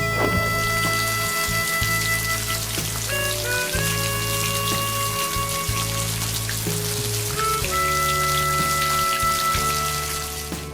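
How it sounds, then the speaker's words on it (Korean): Rain falling outside, a continuous close patter of drops on surfaces lasting throughout, with a sustained tonal hum running underneath and no voices. "비 오는 게 들린다."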